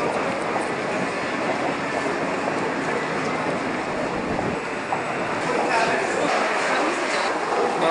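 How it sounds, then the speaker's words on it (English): Train running from Tamachi toward Tokyo Station in 1990, a steady rumbling roar inside the carriage with faint rhythmic rail noise, a voice talking over it. "Anyway, we did ride the train after all."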